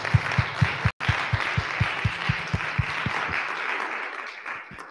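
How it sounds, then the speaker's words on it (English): An audience applauds at the close of a panel session on rural health, a dense, steady wash of clapping with a few sharp, close claps at a regular beat that fades toward the end. "Round of applause."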